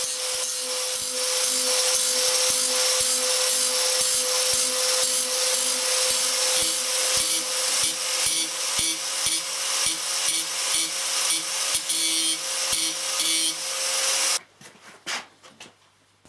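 A Husqvarna CTH 151 lawn tractor's mower blade is sharpened steadily with a rhythmic grinding rasp, repeated scraping strokes at a regular pace over a constant whine, then stopping near the end with a few clunks.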